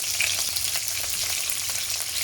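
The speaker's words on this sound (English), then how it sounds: "start sizzling, caramelising as soon as it hits the pan" Rabbit pieces sizzle loudly in hot goose fat in a pan, a steady close crackle and hiss from frying that carries on without pause.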